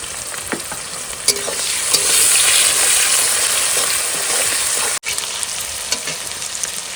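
Bay leaf, onion, ginger and garlic fry in hot oil for a fish curry, giving a loud, steady, close sizzle with occasional clinks and scrapes of stirring throughout.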